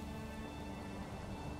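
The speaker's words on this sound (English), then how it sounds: "look at the rain when you zoom out." Steady rainfall in the medieval strategy game Manor Lords, a dense, continuous hiss of drops on streets and roofs with a low rumble beneath, even and unbroken throughout.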